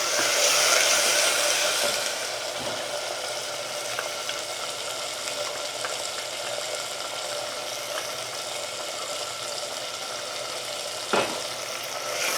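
Tomatoes, curry leaves and asafoetida fry in a pan with a steady, loud sizzle that lasts throughout. Near the end there is a single brief clink of a utensil, and no one speaks.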